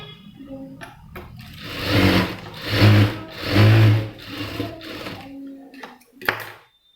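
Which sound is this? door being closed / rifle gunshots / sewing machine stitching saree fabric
sewing machine stitching saree fabric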